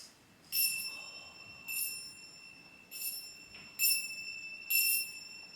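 Five bright chimes of a small bell ring out one by one at a slow, even pace, each ringing clearly and fading over a quiet background.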